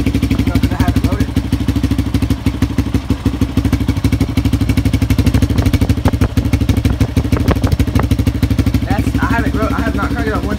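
A kick-started motorcycle engine idles steadily up close, a continuous throbbing rumble that holds even throughout without revving.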